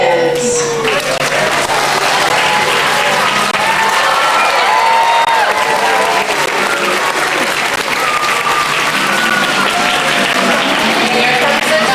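Outdoor crowd on Central Wharf at Boston Harbor applauding and cheering a street performer's balancing act, steady clapping for several seconds with whoops and scattered voices mixed in.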